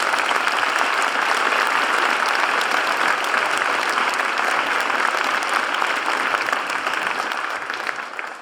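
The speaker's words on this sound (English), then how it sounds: "Please help me welcome Lieutenant Colonel McCarthy." Loud, sustained applause from an audience at a high school Veterans Day program, a thick continuous roar of clapping that begins to taper off near the end.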